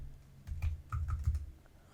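Typing on a Redragon K552 mechanical keyboard with very small keys, a short burst of a few close, soft key clacks in a quiet room.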